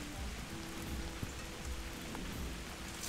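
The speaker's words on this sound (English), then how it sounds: "A torrential downpour set us back in this cook." Heavy rain pours down after a thunderstorm during an outdoor barbecue cook, a dense, steady hiss of drops pattering on surfaces with no talking.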